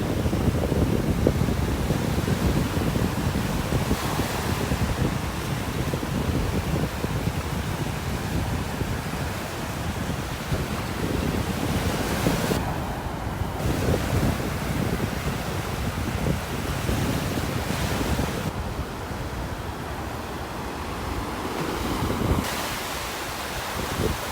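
Ocean surf breaks steadily on a beach in North Naples, Florida, a continuous loud wash of waves with wind noise throughout and no talking.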